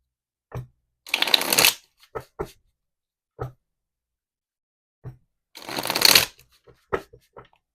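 Yin Yang Oracle cards are riffled twice in quick bursts, each about half a second long, with soft taps and clicks of the deck in between, close up and otherwise quiet.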